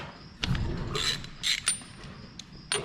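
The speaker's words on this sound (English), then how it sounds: "Let's get them plugs out of there." A wrench works spark plugs loose on an abandoned 1930 Ford Model A Coupe barn find, giving a few separate metallic creaks and ratcheting clicks up close, with short pauses between them.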